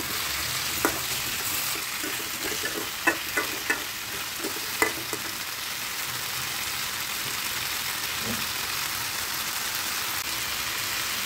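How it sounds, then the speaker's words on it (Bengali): Hog plums (amra) tip into a hot pan and are stirred for a village-style curry, with a steady sizzle and a run of sharp scraping clacks early on, then a quieter, even frying hiss. "আমড়াগুলি দিয়ে দেব, নেড়ে দেব"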